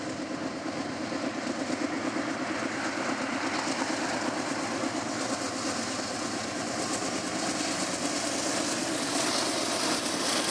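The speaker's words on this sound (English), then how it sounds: "a grain train arrived with a surprise from back home up front, a Norfolk Southern C44-9W" A Norfolk Southern C44-9W locomotive leads a grain train past at close range, a loud steady rumble of engine and rolling wagons filling the whole stretch without letup.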